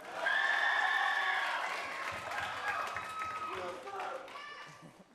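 An audience at an evening show applauds for a performer: broad clapping, loudest at the start and gradually tapering, with voices and cheers rising over it.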